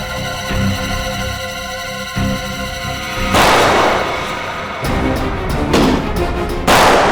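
Music plays in a TV crime drama scene, then several loud gunshots ring out in separate blasts, each with a sharp crack and a short tail.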